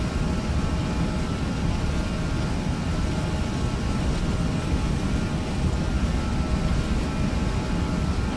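Aerosoft A320 airliner on its takeoff roll in the Prepar3D flight simulator, a constant loud engine roar and rumble that holds steady throughout with no talking.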